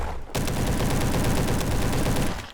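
Rapid, sustained automatic fire from an SM-03 submachine gun in the Roblox shooter Bad Business, a dense loud burst running about two seconds after a short lead-in, with no voices.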